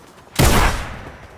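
Gunfire from the video game Fortnite: a sudden loud burst of shots that hits hard, then decays into a lingering rumble over about a second, with no talk over it.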